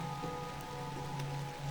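Steady rain falls as a soft, continuous wash with a faint low hum beneath it, no voices present.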